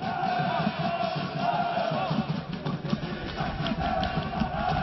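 Football crowd in the stands at a Sampaio Corrêa match chanting a mocking chant in unison, a steady rhythmic roar of many voices at a distance, muffled and fairly faint.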